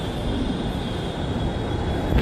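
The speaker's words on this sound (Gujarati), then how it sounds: "આ જો મેટ્રો, આપણે આમાં જ જવાનું ભાઈ." A metro train arrives at a crowded station platform, its steady rumble and rolling wheel noise filling the whole stretch at a constant, close level with a thin high whine above.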